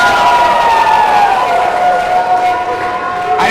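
An arena crowd at the ABC 2022 Finals gives a loud, continuous roar and cheering that fills the whole moment, with a sustained tonal wail running through it.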